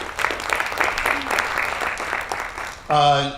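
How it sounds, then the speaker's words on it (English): Audience applause at a members' event, a steady spread of clapping for nearly three seconds that ends abruptly as a voice begins speaking. "Please give Anna a round of applause."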